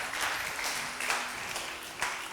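Studio audience clapping for two quiz contestants on a Ramadan television game show, a brief, dense burst of applause with a few louder swells.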